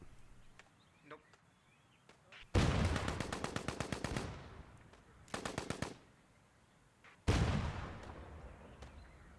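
Machine-gun bursts strike near a Bren carrier in Post Scriptum, three loud rapid volleys with quieter gaps, while a player talks in between.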